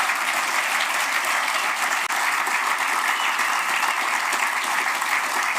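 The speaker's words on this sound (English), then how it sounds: "I know all your hands are sore from clapping" A conference crowd at a Social Democrats gathering gives loud, continuous applause, a thick, even wash of many clapping hands filling the room for several seconds.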